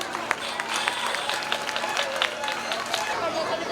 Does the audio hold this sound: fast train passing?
no